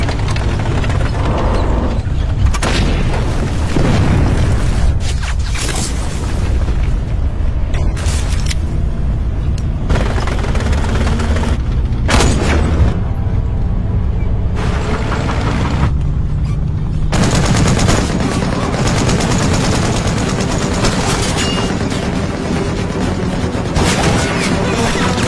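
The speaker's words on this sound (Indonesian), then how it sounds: "Adegan baku tembak pun tak terhindarkan." Sustained machine-gun fire and rifle shots crackle almost without pause through a tank battle between German tanks and Soviet troops in a war film, with heavy booms punching through the dense, loud barrage.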